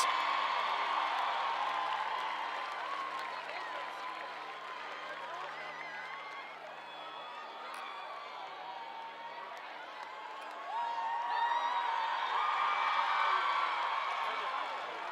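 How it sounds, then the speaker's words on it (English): A crowd applauds and cheers for the Alpha Chi riders after the 37th Women's Little 500, a distant, diffuse wash of clapping and voices that dips midway, then swells again near the end. "Give them another round of applause."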